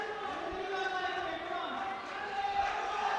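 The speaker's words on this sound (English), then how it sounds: "That's the kind of noise you get with a home crowd." Home crowd at a European Open Classic Powerlifting Championships, men's 83 kg, roaring in support of a Croatian lifter attempting 282.5 kilos: a steady, dense wash of voices holding at an even, fairly loud level throughout.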